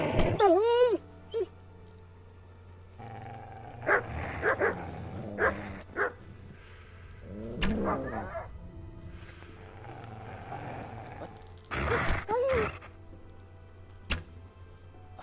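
A dog barks and whimpers a few times amid sound effects from the video game Kingdom Come: Deliverance and a talking voice, with yips scattered through the clip.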